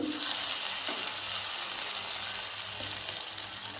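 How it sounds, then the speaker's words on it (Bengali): Chickpea dal frying with coriander and cumin powder, salt and turmeric in a pan, a steady close hiss with stirring through it, no voices. "হলুদ দিয়ে ভালো করে একটু নেড়ে চেড়ে নেব।"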